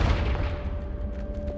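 A Confringo blasting spell explodes in Hogwarts Legacy, a loud booming burst that opens the clip and rumbles off, followed by scattered crackling debris.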